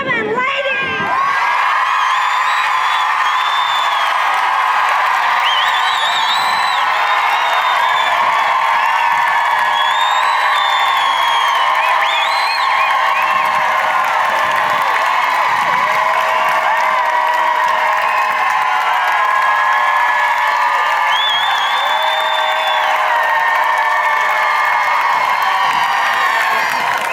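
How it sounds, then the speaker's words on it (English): Women in a large outdoor protest crowd cheer loudly and continuously, a dense wall of high shrieks, whoops and shouting that holds at full volume throughout. "I want all the ladies in the crowd to cheer their lungs out"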